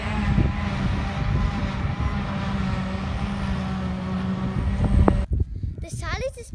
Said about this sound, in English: The harvester collects the grass, chops it up and sends it to the silage trailer.